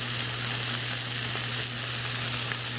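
Stew ingredients seasoned with kosher salt and black pepper sear in a hot pan, giving a dense, steady sizzle up close, unbroken and without any speech.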